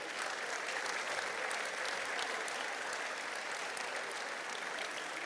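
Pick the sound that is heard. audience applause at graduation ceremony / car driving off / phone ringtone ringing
audience applause at graduation ceremony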